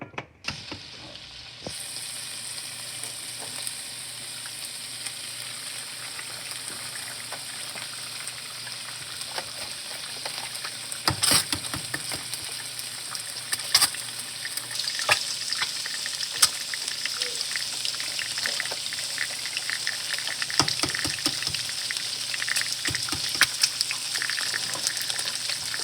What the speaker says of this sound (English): Throw your oil to fry your eggs.